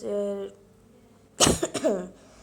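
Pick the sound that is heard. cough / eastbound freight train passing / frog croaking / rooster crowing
cough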